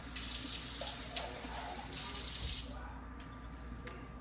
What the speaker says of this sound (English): Just add some water and make sure you get all that good stuff so you don't waste it